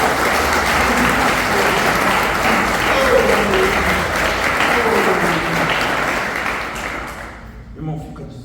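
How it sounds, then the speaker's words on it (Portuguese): A church congregation applauds in a dense, loud, sustained burst of clapping that fades out near the end, with a voice briefly heard as it dies away. "Aplauda Jesus por isso."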